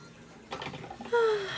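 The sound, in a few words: rose water being sprayed on face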